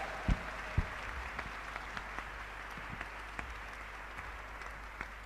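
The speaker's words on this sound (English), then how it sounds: "Warm welcome to Miss Ivanka Trump. With a warm round of applause, please." Applause at the 2017 Global Entrepreneurship Summit in Hyderabad welcoming Ivanka Trump, a broad, steady hall-wide clapping with a couple of sharp thumps near the start, sustained at moderate level throughout.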